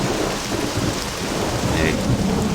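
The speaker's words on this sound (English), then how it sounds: "Rain is noisy." Steady heavy rain with rolling thunder in a horror video game, a loud continuous downpour with low rumbles running throughout, no voices.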